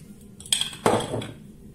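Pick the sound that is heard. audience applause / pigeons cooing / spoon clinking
spoon clinking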